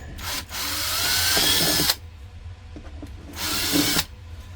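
A power drill whirs loudly for about two seconds, goes quiet, then bores again in a shorter burst, drilling holes from the top of a DIY hydroponics container.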